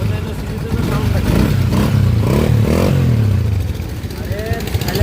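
A Honda CG 125 motorcycle engine runs loud and close through its silencer, a steady throbbing rumble with some rising revs, while a person talks over it.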